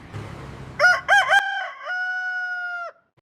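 A rooster gives one loud, close cock-a-doodle-doo: a few sharp rising notes, then a long held final call that cuts off abruptly, after a short burst of rustling noise.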